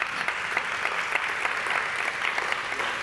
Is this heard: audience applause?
yes